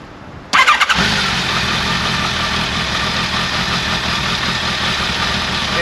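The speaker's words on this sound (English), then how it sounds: "I'll go ahead and start the bike up now, just so you can hear what it sounds like." A warmed-up Kawasaki ZRX1200R motorcycle with its stock exhaust starts: a brief crank, then it fires and settles into a loud, steady, close idle.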